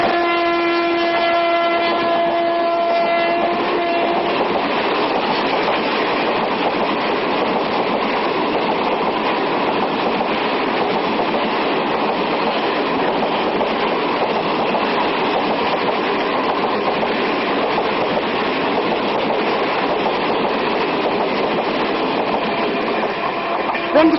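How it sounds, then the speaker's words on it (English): A train's engine whistle sounds steadily over the rumble of the passing train, then gives way to a continuous, loud rolling clatter of rail cars. "When the train moves away from him, the apparent pitch of the whistle decreases."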